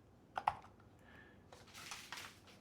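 Keystrokes on a computer keyboard, a couple of sharp clicks followed by a short burst of quicker, softer tapping, close by in a quiet room with no voice.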